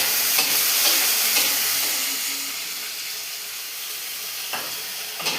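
Fish curry frying in a pan as tomatoes go in, a loud, steady sizzle and hiss with brief stirring scrapes, no voices.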